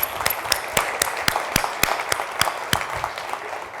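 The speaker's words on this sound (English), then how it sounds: "Let's give them another round of applause." A crowd applauds steadily for a few seconds, scattered sharp claps standing out above the dense, even clapping.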